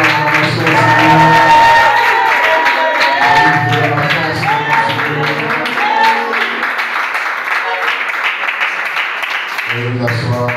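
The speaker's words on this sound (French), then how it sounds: "Une bonne acclamation au Seigneur." A church congregation claps loudly and continuously while voices shout and cheer over it, with singing-like tones weaving through the sustained, close, crowded applause.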